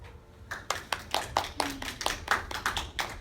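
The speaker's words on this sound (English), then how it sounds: "That magic word got me clapping." Applause from a lecture audience, a scattered set of individual hand claps at an uneven rhythm, fairly close and moderately loud, with no talking over it.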